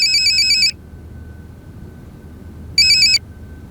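An electronic telephone ringtone sounds in two bursts, a longer one at the start and a shorter one near the end, clear and fairly loud with quiet room hum in the gap and no voices.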